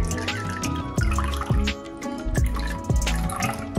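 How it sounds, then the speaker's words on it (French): A cotton pad dipped into Dettol antiseptic liquid gives quick, close liquid drips and splashes in an irregular patter, with a few sharper wet plops standing out. "Vous prenez votre coton. Ici, vous allez le tremper dedans."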